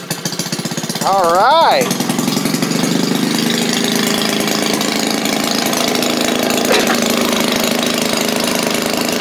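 A Maytag washing machine's small engine, carburetor slightly out of adjustment, kicks into life and keeps running with a loud, close, rapid popping chug; someone briefly speaks as it starts.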